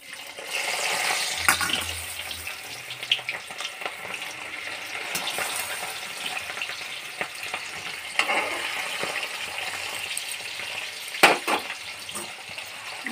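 Moong dal frying in a pan, a steady close sizzle running throughout with occasional scrapes and stirring clatter, with no voices.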